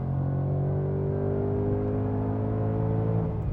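The V8 of a Ford Mustang Dark Horse revs in a steady, loud, close drone that climbs slightly in pitch and holds its rumble throughout, with no speech over it.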